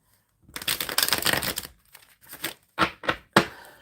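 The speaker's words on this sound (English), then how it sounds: "let's give it a good shuffle." A deck of tarot cards is shuffled close up, a rapid riffle of crisp flicks followed by several separate short slaps and shuffles.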